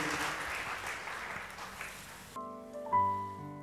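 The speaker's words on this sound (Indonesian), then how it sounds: "Ayo tepuk tangan saudara-saudara buat Tuhan kita" A congregation in a church service claps together for a couple of seconds. The applause then stops abruptly and gives way to sustained electronic keyboard tones.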